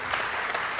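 Audience applause at an awards ceremony for the World's 50 Best Restaurants, a steady, dense wash of clapping hands filling the room without pause for its short length.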